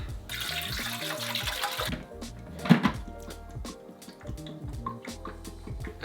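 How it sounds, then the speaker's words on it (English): Reverse-osmosis water pours into the tank of a reptile fogger, a close, steady splashing trickle for about two seconds, then scattered small drips and plastic clicks. "Just gonna fill it up with some RO water."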